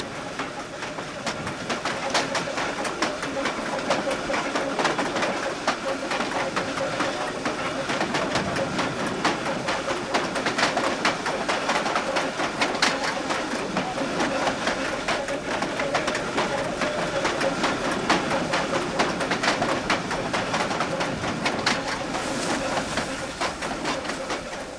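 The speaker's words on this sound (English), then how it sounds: "We follow the train across lush green fields lined with poplar trees." A train rolling across lush green fields lined with poplar trees in China, a steady moderate rumble with faint rhythmic clatter throughout, and birds calling in the background.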